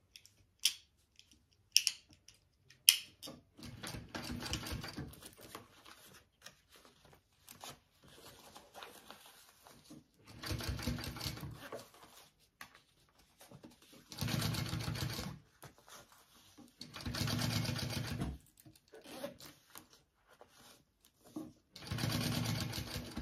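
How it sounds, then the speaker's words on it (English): A sewing machine top-stitching along the side of a zipper on a tag-along bag: several bursts of rapid whirring stitching, a few seconds each, separated by pauses and light handling clicks and rustles, fairly faint overall. "I'm going to top stitch along this side of the zipper."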